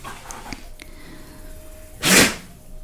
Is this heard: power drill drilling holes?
no